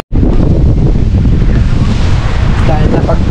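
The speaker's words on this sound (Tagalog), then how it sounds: "mahangin to" Strong wind buffets the microphone at the 18° North cafe and campsite in Bangui, Ilocos Norte, a loud, continuous rushing roar that starts abruptly and holds steady throughout.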